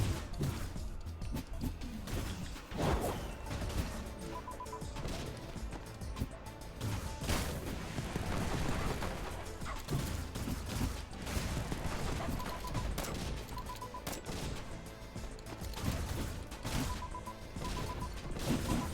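Rapid gunfire from small gunner enemies in an action roguelite video game, dense overlapping shots and impacts over a constant layer of game music and effects, loud throughout.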